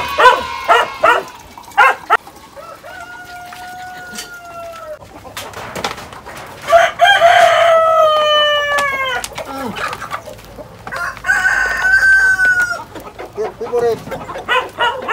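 Free-range chickens on a farm clucking in short bursts, with a rooster crowing loudly and repeatedly nearby and a dog barking now and then.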